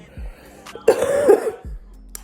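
A sick woman gives a single harsh, close cough, loud and raspy, with faint breaths before and after.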